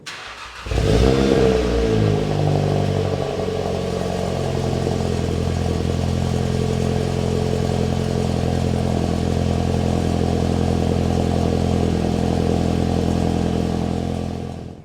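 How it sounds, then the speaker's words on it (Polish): A Volkswagen Golf GTI 7.5 engine cranks and fires up on a cold start, then holds a loud, steady high idle with a droning rumble close by. "jak brzmi cold start w tym samochodzie"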